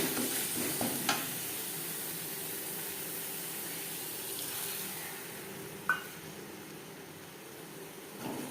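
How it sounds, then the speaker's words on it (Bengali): Red chili paste, chili powder and spices frying in a pan for a vegetarian potato, pointed gourd and paneer curry, a steady low sizzle with occasional stirring clinks, no talking. "এক চামচ red chilli powder, red chilli paste."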